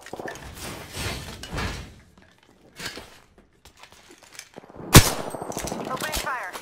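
Gunfire from an Apex Legends match with a Bangalore loadout and Eva 8 shotgun: bursts of shots early on, a few quieter sounds, then a sharp loud blast near the five-second mark followed by rapid continuous firing to the end.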